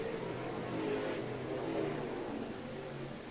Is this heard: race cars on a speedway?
yes